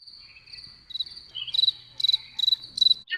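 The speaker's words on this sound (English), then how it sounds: "I hope in the editing there's crickets at that moment." Cricket chirping added as an editing sound effect, a steady high trill broken into short pulsed bursts, clear and close, with nothing else heard.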